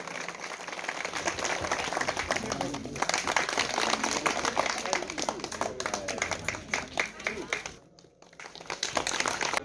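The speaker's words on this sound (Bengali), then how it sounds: "সবাই একটু জোরে করতালি প্লিজ।" Audience at a local government community programme claps steadily for several seconds, a dense patter of hands that briefly dips near the end before resuming.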